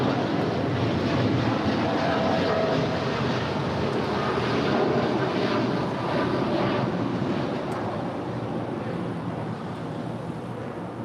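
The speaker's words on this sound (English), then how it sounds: "That is United Airlines 2614 Heavy departing to Newark Liberty. It's a 787-10 Dreamliner." A United Airlines Boeing 787-10 Dreamliner departs LAX for Newark, its jet engines a dense continuous roar at fairly close range, slowly easing off toward the end amid buffeting wind noise.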